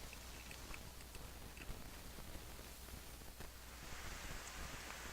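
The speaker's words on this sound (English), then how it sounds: "Hey, starting to rain." Rain falling in the RPG Maker game Legion Saga II, a steady soft hiss of drops with no voice over it.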